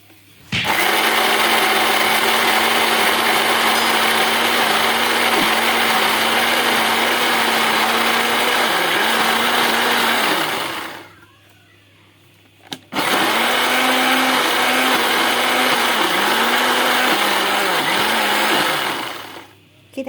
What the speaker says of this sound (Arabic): احنا ضربناها في الخلاط